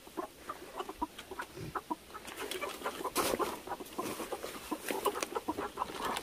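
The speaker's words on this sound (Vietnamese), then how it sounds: "Hôm nay chúng em mua cho ông là một con trống và 4 con mái." A rooster and four hens cluck in short, repeated calls at close range, with overlapping bursts growing busier partway through and no one speaking.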